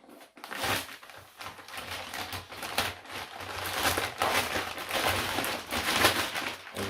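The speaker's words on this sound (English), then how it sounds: "I'm going to use the top here and try and cut it open." Plastic packaging around a faux fur double bean bag chair is cut and torn open, with close crinkling, scraping and rustling in irregular bursts and no talking.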